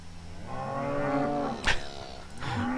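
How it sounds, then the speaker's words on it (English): Cattle moo in the video game 1849: one long, drawn-out low moo, then a sharp click and the start of a second, shorter call, close and clear with no talking. "Moo."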